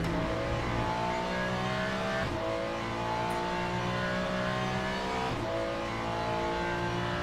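Ferrari 296 GT3 racing at Imola in Le Mans Ultimate, a steady, loud engine drone holding a constant pitch with brief dips around gear changes, no voices over it.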